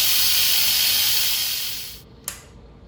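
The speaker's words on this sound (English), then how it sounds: "Just gonna release our pressure" Loud, steady hiss of steam venting from an Instant Pot pressure cooker during pressure release, holding strong for about two seconds before cutting off sharply, followed by one short puff.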